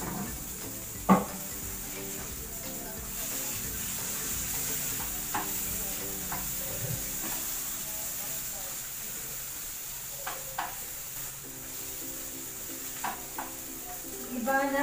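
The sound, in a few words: frying hotdogs in a pan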